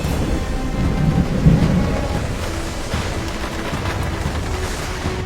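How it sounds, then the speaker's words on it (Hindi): Cold-season rain sets in suddenly, with a dense, steady hiss of rainfall and a deep roll of thunder rumbling underneath, loud and continuous with no voices. "अचानक बारिश शुरू हो गई।"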